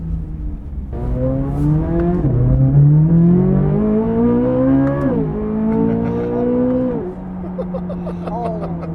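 Chevrolet Corvette C8 Z06 accelerating hard with short shifts, its engine rising in pitch through several quick gear changes, each marked by a sharp drop, then easing off near the end; loud and close from inside the car.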